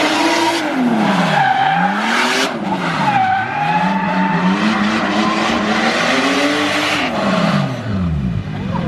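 A 950 hp Toyota Supra pro drift car on a hot lap roars loudly and close, the engine repeatedly revving up and dropping back over continuous tire squeal and skidding.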